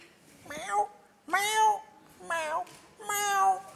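A man imitates a cat meowing, producing four drawn-out, pitched meows in slow succession, close and clear with short pauses between them.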